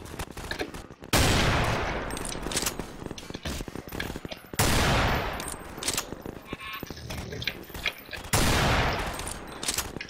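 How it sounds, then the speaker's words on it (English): Heavy massed gunfire from many weapons aimed at zombies in Garry's Mod, dense overlapping volleys that swell loudly in three surges and keep crackling between them. "Because there's so many guys shooting at the zombies."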